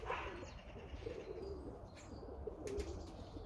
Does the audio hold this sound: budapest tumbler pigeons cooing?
yes